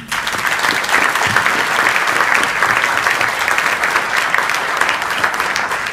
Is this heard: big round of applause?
yes